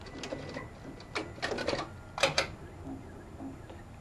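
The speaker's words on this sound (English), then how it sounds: "If you'll notice, again, we've got a thread in the sewing field, so we want to trim it first. I press trim, then I press start." SWF embroidery machine trimming thread and then starting, heard as faint clicks and short mechanical bursts at a distance.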